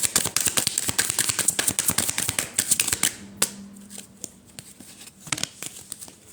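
Oracle cards are shuffled by hand in quick, papery riffling and flicking bursts for several seconds, then a few sparser snaps as a card is drawn, close and fairly soft.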